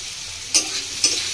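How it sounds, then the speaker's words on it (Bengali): Ground coriander, cumin and Kashmiri chilli powder fry in a pan with a steady close sizzle, broken by two quick scraping stirs of a spoon. "ভালো করে মশলাটা মিশিয়ে নেব।"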